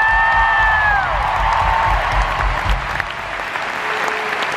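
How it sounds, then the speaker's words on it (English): A theatre audience applauds and cheers through the whole stretch, with dense clapping, whoops and crowd noise, while a held vocal note fades out near the start. "let's hear it for Frank. Woo"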